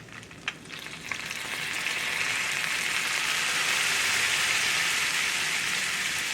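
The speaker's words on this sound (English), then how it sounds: "Deglaze the bottom with it just a little." Apple cider vinegar hits a hot pan to deglaze it after a few clicks, swelling into a loud, steady hissing sizzle that stays close and even.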